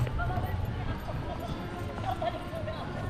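Horse hooves clip-clop steadily during a horseback ride at the Mothers Wonderland park, close and continuous under people chatting.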